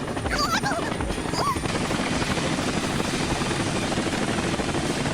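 An animated helicopter's rotor thumps steadily and loudly throughout, a constant chopping drone with a brief high chirping sound near the start.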